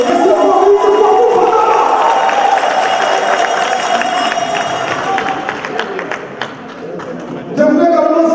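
An audience at an assembly of elected officials and customary chiefs applauds loudly with some cheering, a dense continuous clatter of clapping that slowly thins toward the end before swelling again briefly.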